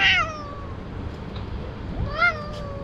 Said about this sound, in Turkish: şurada kedi gördüm bak marketin kedisi